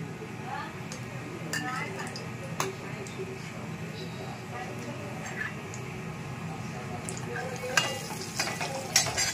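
Kashmiri red chilli powder sizzling in hot oil in a pan, a soft, steady hiss with scattered clinks and stirring scrapes, under someone speaking.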